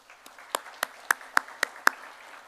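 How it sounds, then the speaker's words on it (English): Scattered handclaps ring out at a college convocation, about seven sharp claps spaced almost evenly over a faint, quiet background. "So how about a round of applause for each of you?"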